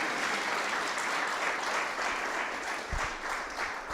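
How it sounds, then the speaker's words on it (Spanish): A church congregation applauds during a Spanish-language service, a fairly soft, even wash of many hands clapping that keeps going with little change, heard from a distance. "¿Por qué no da un aplauso a Dios porque fue fiel hasta el último en la serie de Hechos?"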